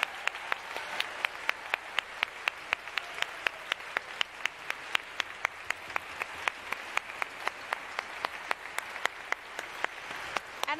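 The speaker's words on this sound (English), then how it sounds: "Would you give them a round of applause and thanksgiving?" A church congregation applauds the choir after a traditional worship service with a Missa Gaia Earth Mass, steady dense clapping with sharp individual claps standing out, sustained evenly for about ten seconds.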